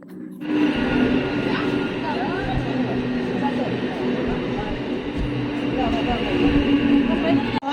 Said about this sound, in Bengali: ট্রেন চলে এলো এখন চলো ট্রেন এসে গেছে